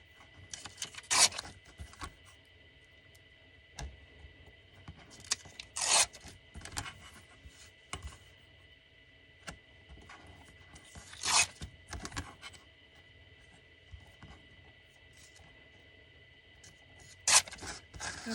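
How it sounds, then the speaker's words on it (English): Paper, including coffee-dyed sheets, torn by hand, several separate rasping rips close by with quiet gaps between them. "I'm going to go ahead and rip this real quick"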